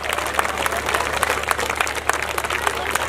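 A large crowd at a religious discourse and wedding gathering claps steadily, dense and continuous applause filling the space, loud and sustained throughout, with a voice faintly underneath.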